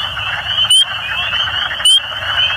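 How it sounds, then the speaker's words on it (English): Wood frogs and spring peepers calling at night along a river in March: a dense, steady chorus of trilling and clucking croaks, with two sharp, loud peeper peeps standing out close by. "a bunch of wood frogs. In the foreground, spring peepers calling."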